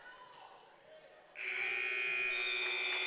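During a North Dakota girls' high school basketball game, Wahpeton vs Northern Cass, an arena buzzer cuts in partway through and holds as a loud, steady electronic tone over the quieter hum of the gym.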